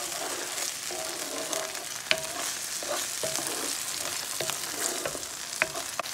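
Ground turkey meatball mixture with wet jerk seasoning and barbecue sauce sautés in a pan, a steady close sizzle broken by repeated scraping stirs and light utensil knocks, with no voices.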